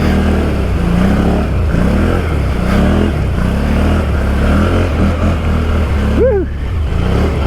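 A 2019 Can-Am Outlander 650 XMR ATV churns through deep, nasty mud, its engine droning loud and steady the whole time with rising and falling revs. A brief vocal whoop cuts in near the end.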